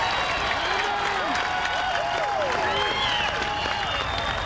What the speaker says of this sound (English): I don't know, Billy, do you think the crowd's loving it out there?